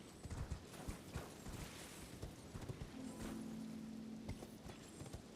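Horse hooves clip-clop at a steady riding pace in the Elden Ring video game, with faint creaks and a brief low drone partway through, all quiet and without talk.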